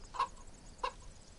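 Two short, faint clucks from a chicken in the DayZ video game, spaced about half a second apart over a low, quiet background.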